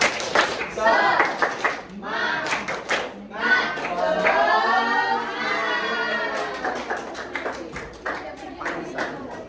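Primary-school classroom of fifth-graders doing a rhythmic cheer clap, bursts of patterned hand claps mixed with children's chanting voices, fairly close and lively.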